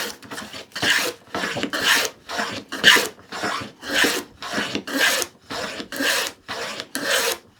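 A moving fillister plane cuts wood shavings in steady, rhythmic rasping strokes, about a dozen close passes that swell and fade evenly.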